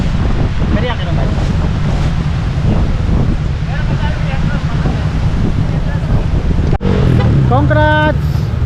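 Heavy wind buffets the microphone in a steady roar during a long bike ride from Manila to Dingalan, with people talking underneath; near the end a brief humming tone rises through the gusts.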